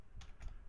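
Two short keystroke bursts on a computer keyboard, entering a command in the R statistics program, close and quiet with a brief gap between them and no talking.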